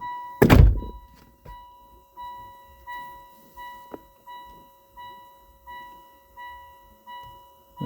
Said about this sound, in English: just let me shut that door